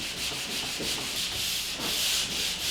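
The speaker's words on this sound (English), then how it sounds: "This is a switch box I'm sanding over." Steady abrasive scraping of a fiberglass sanding screen over dried drywall joint compound around a switch box, close and continuous with a rhythmic back-and-forth swish.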